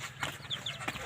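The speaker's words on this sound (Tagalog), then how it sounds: "Yan yung manok namin." A chicken clucks a few short times nearby, with soft background noise between the calls.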